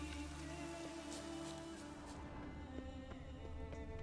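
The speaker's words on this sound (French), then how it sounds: "Il va pleuvoir." Steady rain in The Witcher 3 video game patters across a surface in a continuous wash, with a low ambient hum underneath and no voices.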